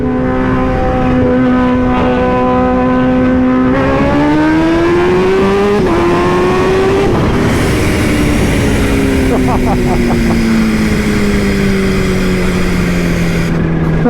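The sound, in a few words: Kawasaki Ninja H2 motorcycle first-gear launch acceleration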